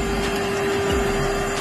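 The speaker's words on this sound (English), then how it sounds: "Good thing I have this built-in vacuum though" A built-in vacuum cleaner in a minivan runs with a steady, loud motor drone and a constant tonal hum, with no talking.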